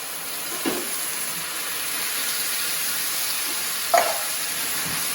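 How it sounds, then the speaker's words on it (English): Steady hot sizzling hiss of canned tomatoes poured into a hot pan, with two brief louder spatters or stirring clatters. "You can hear how hot the pan is."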